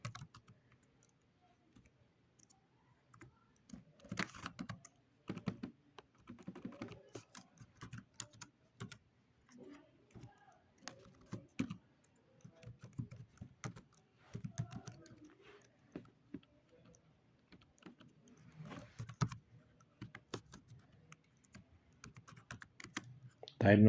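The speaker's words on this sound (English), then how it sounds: "Here I can type text" Keyboard keys are typed in irregular bursts of clicks throughout, moderately close, with faint background noise between runs while entering text into an HTML form.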